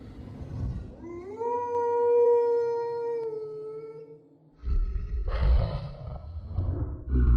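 A single long, wavering wolf howl rises and holds clearly in a winter horror story setting, then gives way to a rough, noisy rumble of sound effects.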